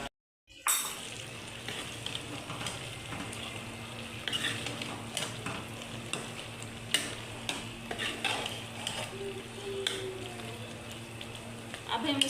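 Ground tomato masala being stirred into frying mutton mince in a pan, with a steady low sizzle, spoon scrapes and clinks against the pot throughout, and brief faint talk in the background.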